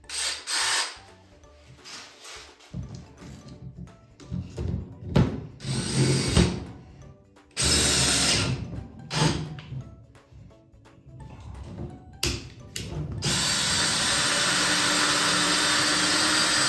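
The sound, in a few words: electric hand drill drilling out valve guides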